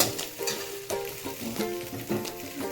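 Vegetables sizzle and fry in a hot pan while Maggi noodles go in, a steady crackle with a few louder bursts and stirring scrapes, close and without talk.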